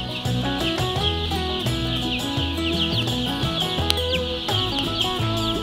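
Chickens cluck and chatter continuously at Polyface Farm, several birds close by with overlapping calls and a high steady chorus behind them, fairly loud, with no talk.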